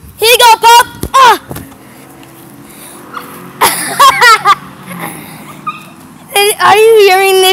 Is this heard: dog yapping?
yes